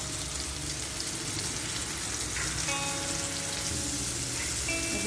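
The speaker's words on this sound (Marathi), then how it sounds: "एक साईड व्यवस्थित पूर्णपणे फ्राय करून घ्यायचे आणि मग दुसरी साईड फ्राय करायचे" Semolina-coated pomfret frying in a pan, a dense steady sizzle heard up close, with a few faint tonal clinks and small kitchen noises partway through.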